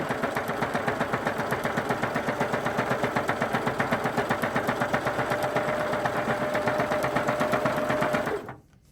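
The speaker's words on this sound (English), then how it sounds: "You're essentially just sewing one long straight line." A sewing machine runs steadily along one long straight seam in pillowcase fabric, its rapid even stitching rhythm loud and close for about eight seconds before stopping abruptly.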